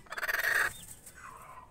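A hen gives a loud, close, rapid trilling squawk lasting under a second, followed by a softer, lower call.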